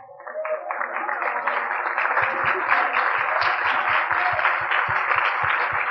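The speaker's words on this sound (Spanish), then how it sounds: "Yo no me aguanté y también aplaudí." A church congregation applauds during a sermon, a dense crowd of clapping hands that builds quickly and continues steadily, with low rhythmic thumps underneath.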